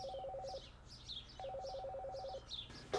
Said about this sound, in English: The phone just goes berserk.